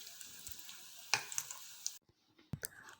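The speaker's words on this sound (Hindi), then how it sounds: "और यहाँ पर फिर से फ्राइंग का सिलसिला शुरू हो गया है।" Snacks sizzle in hot oil, a soft steady crackle for two seconds, then a pause and a few sharper clicks and spatters.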